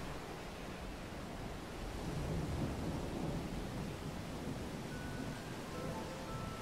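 Thunderstorm in Octopath Traveler rolls as a continuous roar of rain and low rumbling thunder that swells slightly midway, with no speech.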